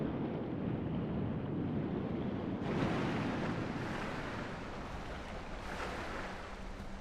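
Water in the game Sekiro: a continuous wash of lapping waves and surf, close and fairly quiet, with a broader surge partway through and no one speaking.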